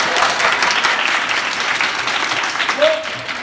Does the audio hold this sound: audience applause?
yes